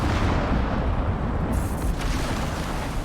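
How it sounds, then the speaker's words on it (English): A lightning strike slams down on the player in an open-world survival game, a loud, sustained low rumbling roar of thunder that fills the whole moment with no voices. "I just got hit by lightning."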